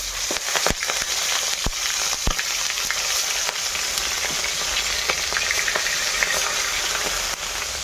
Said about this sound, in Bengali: তো চলো এদিকে মাছ ভাজাটা হতে থাক